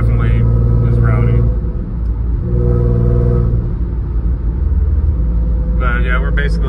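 A fifth-generation Chevrolet Camaro with the 3.6-liter LLT V6 rumbles at a steady low idle, loud and close, with a brief rise in engine note partway through while a person talks over it.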